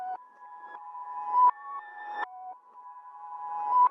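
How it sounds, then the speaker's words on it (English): A reverse ambience effect sits in a beat, with sustained synth-like tones swelling in level and cutting off abruptly, repeating in a few phrases of pitched notes alone without voices. "I had this reverse ambience in here."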